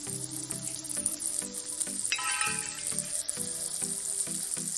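Three large chopped onions fry in a pan for a dhaba-style egg gravy, giving a steady, moderate sizzle and hiss. Soft rhythmic knocks of stirring sound beneath the frying, with no voices.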